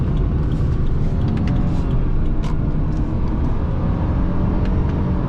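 A 2018 Subaru Forester XT accelerating in first gear, a loud, steady engine drone and road rumble heard from inside the cabin, with no talking.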